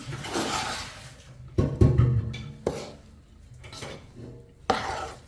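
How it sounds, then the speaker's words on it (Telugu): A spoon scrapes and knocks against a pot while spice powder is mixed into tamarind rice (pulihora), giving several distinct clanks and scraping strokes at irregular intervals, close and fairly loud. "ఇదిగో ఆ పొడి అంతా కలుపుతున్నాను"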